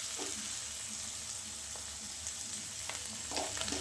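Cut okra (bhindi) being stir-fried in a pan over an already-cooked spice base, a steady loud sizzle running throughout with a few soft stirring scrapes and clinks.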